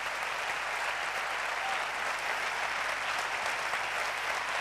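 An audience applauds at the Promecal Ávila 2015 awards gala, with even, continuous clapping from a large crowd filling the hall and holding at a moderate level throughout, with no speech on top.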